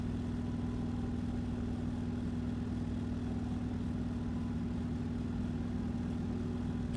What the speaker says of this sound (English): Let's ride my motorcycle on this part of the barrier here.